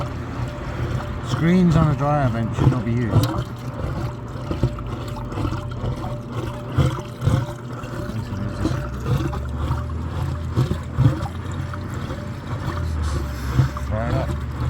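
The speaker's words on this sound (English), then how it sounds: "you can hear it, you can see the water just streaming out" Water streams and glugs out of a dryer vent that is clogged by a screen left inside it. The flow gurgles and burbles steadily under a voice as he talks over it.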